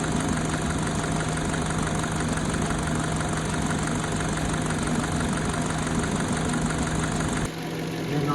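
A 2011 Peugeot 207 engine with a stalling, skipping, rough-idle fault runs at idle, a steady close mechanical drone with a faint knocking texture that changes slightly near the end, with no voices.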